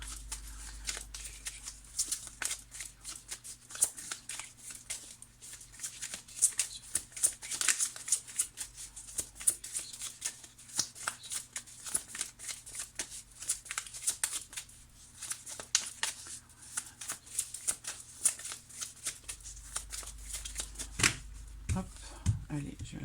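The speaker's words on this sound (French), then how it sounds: "je vais sortir une dernière carte, ici, sur la tour. Une seule carte, s'il vous plaît." Tarot cards being shuffled and drawn, a continuous close stream of crisp riffling and flicking card noises lasting the whole stretch, with a low background hum and a short rustle at the end.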